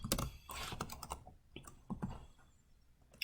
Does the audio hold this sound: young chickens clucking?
no